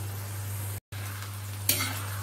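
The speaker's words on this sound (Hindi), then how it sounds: "इसको अच्छे से सौते करना है।" Finely chopped chilies and onions sauté in a karahi with a steady close sizzle over a constant low hum, broken by a brief dropout and then a sharper burst of frying and stirring near the end.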